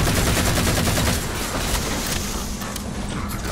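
Dense, sustained automatic fire from Halo 4 rattles loudly and continuously, rapid shots packed together in co-op combat against alien enemies, easing slightly partway through but never stopping.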